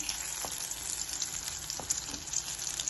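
Pandugappa fish pieces fry in hot oil with a steady, close crackling sizzle, broken by a few faint clinks of a utensil, with no voices.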